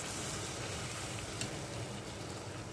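Fried balushahi sweets lowered into sugar syrup give a steady, dense sizzle with a soft, even hiss that holds at a constant level throughout, with no talking.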